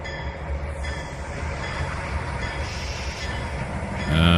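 A diesel locomotive in the Trainz 2019 train simulator game rumbles with a low, steady engine drone, faint wheel clatter and a rising roar at the end as it pulls forward.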